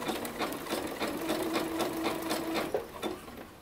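A sewing machine stitches elastic onto knit sweat shorts, a close, steady motor whir with rapid needle pulses running continuously for a few seconds with no talking.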